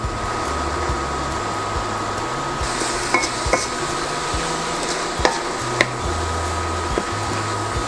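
Ground beef being stirred and mixed with garlic powder, sugar, salt and cumin for shawarma, a steady close scraping and stirring with a few light clinks of a utensil against the bowl, no talking.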